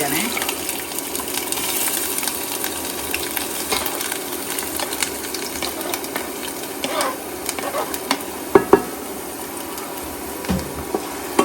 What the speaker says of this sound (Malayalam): ഇഞ്ചി വറക്കാൻ വേണ്ടി